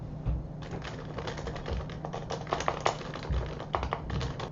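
Steady, close clicking of typing on a computer keyboard, picked up by a webcam microphone, with rapid irregular keystrokes and no talk.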